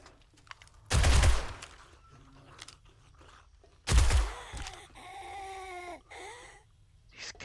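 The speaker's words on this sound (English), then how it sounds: "These guns are so effective." Two loud bursts of gunfire in the zombie survival game 7 Days to Die, about three seconds apart, each a sharp blast with a ringing tail, followed by fainter creature cries and game noises.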